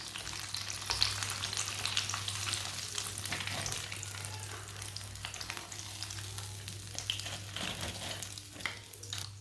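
A club sandwich fries in a hot pan with a steady, close crackling sizzle, occasional stirring or shifting noises and a low constant hum underneath, without talking.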